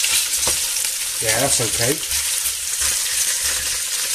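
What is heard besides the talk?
pork ribs browning in a large pot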